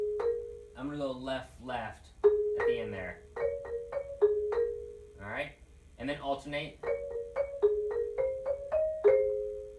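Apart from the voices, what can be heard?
mallet percussion passage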